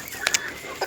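A few short, faint clucks from a pet hen in a backyard coop, two quick calls close together and another a moment later, over a quiet background.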